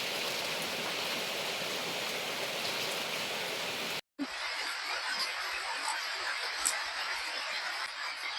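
Light drizzling rain makes a soft, continuous hiss that cuts out for a moment midway, then resumes a little brighter.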